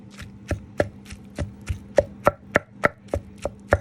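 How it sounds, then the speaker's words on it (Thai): Wild mushrooms being pounded in a mortar for a Thai mushroom dish, a series of sharp, evenly spaced thuds about every third of a second, close and clear with no talking. "ขออนุญาตตำแป๊บหนึ่งเนาะพี่น้องเนาะ"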